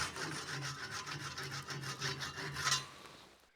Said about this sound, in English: The Japanese pull saw.